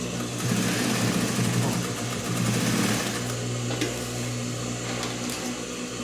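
A sewing machine runs at a steady, fast whir as it stitches a seam on a fabric double pencil case. The motor hum holds close and continuous throughout, slowing slightly toward the end.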